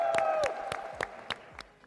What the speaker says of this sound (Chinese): 我们也把掌声再次送给我们的任真